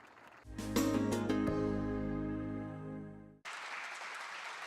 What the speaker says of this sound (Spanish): tras la aprobación de la ley, los aplausos han dado paso a la emoción